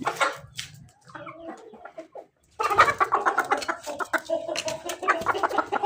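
A hen clucks in bursts on a village farm where pigeons are also kept, nearby and fairly loud, with a short quiet gap before a denser run of clucking.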